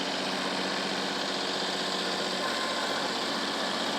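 Tractor with a front loader running steadily while filling in a trench, a continuous mid-pitched diesel engine drone with a slight knocking vibration, close and unbroken throughout.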